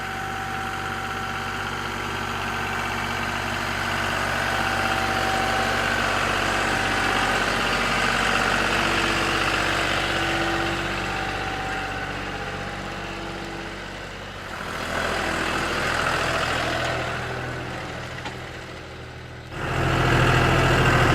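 A tractor engine runs steadily for a long stretch while grading a driveway with a three-point blade, a low droning rumble that dips briefly then picks back up, with no voices.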